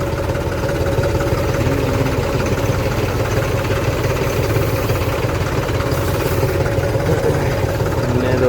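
A tractor engine runs steadily nearby, a continuous low chugging drone with a fairly even rhythm throughout, with faint voices now and then.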